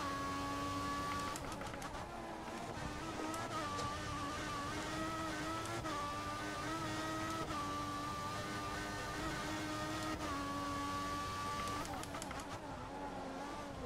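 A Formula 1 race car engine in the F1 2014 PC game, Australian qualifying round, screams continuously at high revs, its pitch rising and falling with repeated gear shifts, loud and steady throughout.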